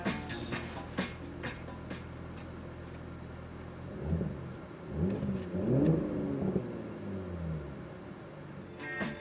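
A 2018 Audi S4 3.0T sedan engine rises in a revving, accelerating growl in the middle, after a stretch of quieter idling with scattered clicks.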